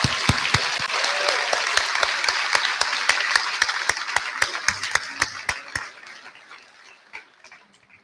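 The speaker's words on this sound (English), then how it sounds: "Please join me in another round of applause" Applause at a high school graduation for the Band of Gold, with steady clapping and sharp individual claps standing out near the mic, fading out over the last couple of seconds.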